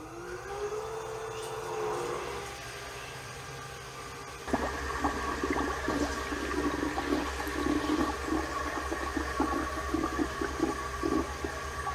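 Water pumped through the supercharger intercooler cooling system of a Cobra during a flow test, a steady rushing, gurgling flow that turns louder and more turbulent partway through and keeps going to the end, with no talking.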